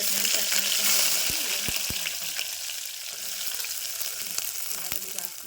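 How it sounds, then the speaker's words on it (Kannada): Cumin and mustard seeds crackle in hot oil, a dense close sizzle with scattered sharp pops over a steady frying hiss, loud and continuous. "ಈಗ ನೋಡ್ರಿ ಜೀರಿಗೆ ಸಾಸಿವೆ ಚಟಪಟ ಅಂತ ಸಿಗ್ಲತ್ತವ್ರಿ"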